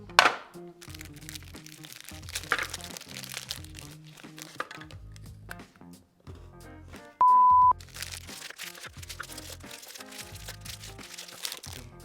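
Hard shortbread cookies are torn out of their packaging, giving a run of crinkling plastic-wrapper crackles and crunches over a rhythmic background beat, with a brief electronic beep partway through.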